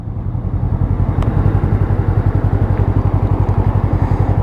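A Voge 500AC motorcycle rides along a dual carriageway, its engine thrumming in a loud, steady, rapid pulsing beat with wind rush, heard close up from the bike throughout.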